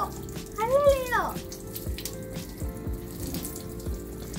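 Water sprays softly at low pressure from an adjustable 3-in-1 pet shower sprayer and scrubber, a steady close wash of flow with a brief voiced sound near the start.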